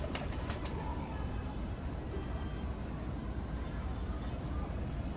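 Large golden dove, a breeding pigeon used for a bloodline, cooing softly amid a steady dense background hiss, with a few brief flapping bursts near the start and no clear talk.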